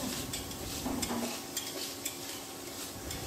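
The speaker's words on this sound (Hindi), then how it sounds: "बीटरूट भी मैंने इसमें डाल दिया है, मिलाते हैं अच्छे से" A spoon stirs beetroot into pav bhaji in a pan, giving scraping strokes over a steady background sizzle, close and moderately loud with no talking.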